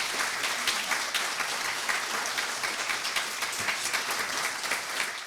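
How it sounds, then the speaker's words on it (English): Audience applause for candidates at the close of a 2025 leadership contest debate in Charlottetown, a steady, dense wash of clapping from a full hall lasting throughout with no talk over it. "A round of applause for these candidates."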